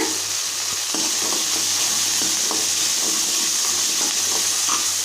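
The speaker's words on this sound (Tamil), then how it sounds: "வெங்காயம் நல்லா வதங்கினோன்னே இப்போ நம்ம கறிவேப்பிலை சேர்த்திக்கலாங்க" Curry leaves hit a pan of sautéed onions for a sprouted horse gram kulambu, giving a steady close sizzle with intermittent stirring clicks and scrapes throughout, no voices.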